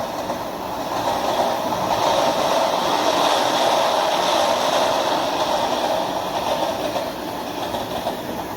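Train in the Monster Meteor video game, a loud, steady rolling rumble with faint rhythmic clatter, close by and sustained with no voices.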